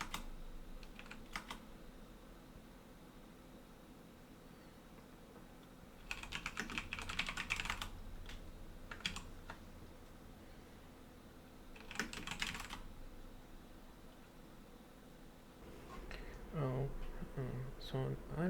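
Typing on a computer keyboard while installing sudo on Arch Linux, heard as a few bursts of quick keystrokes with pauses between them, up close and fairly quiet, with soft speech underneath.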